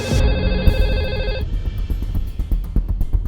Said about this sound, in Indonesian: malam-malam yang telepon ya?